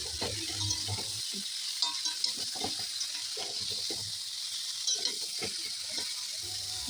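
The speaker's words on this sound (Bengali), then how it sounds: "হলুদটা দিয়ে এটাকে আরও কিছুক্ষণ ভাজতে হবে। তো এইভাবে আমি কিছুক্ষণ ধরে ভেজে নিচ্ছি।" Mango pickle mixture with turmeric frying in a pan, giving a steady close sizzle with intermittent scraping and stirring clatter throughout.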